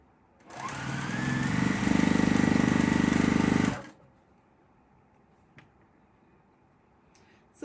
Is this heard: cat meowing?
no